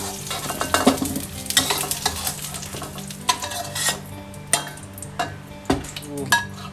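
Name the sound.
garlic frying in oil in a pan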